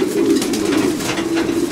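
Pigeons coo in low, rolling murmurs, continuous and close, several birds overlapping in a soft, throaty drone.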